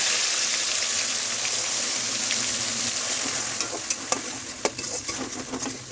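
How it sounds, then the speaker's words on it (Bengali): Onion, ginger, garlic and green chilli paste sizzles steadily in hot oil, a continuous frying hiss with a few sharp spoon-and-pan clicks near the end. "এটা কষাতে থাকবো যতক্ষণ না তেল না বেরোচ্ছে, ততক্ষণ এটা ভালো করে কষিয়ে যাব"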